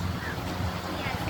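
Strong beach wind roars and buffets the microphone steadily, with a broad rushing noise and no clear voices.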